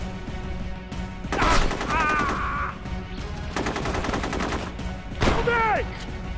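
Automatic gunfire bursts from the shooter video game Rogue Warrior, with rapid repeated shots around the middle and short sharp blasts at start and end, loud and close, mixed with game effects.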